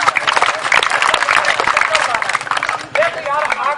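Children clapping together at a Punjabi street madari magic and cobra snake show, a dense steady patter of applause mixed with crowd babble and a voice running underneath throughout.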